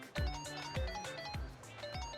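In the video game Like a Dragon: Infinite Wealth, a phone ringtone plays a steady repeating electronic melody, with pulses roughly every half second, clear and alone at moderate level.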